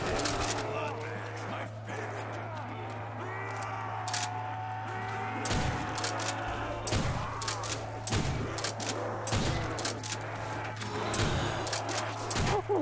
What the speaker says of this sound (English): There's a shotgun blast to the face.